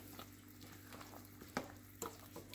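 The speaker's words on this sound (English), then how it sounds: "I'm going to stir it" Yakhni pulao broth, salted with at least a teaspoon of salt, is stirred in a pot, giving a soft continuous simmering wash broken by a few sharp spoon clinks against the pot's side.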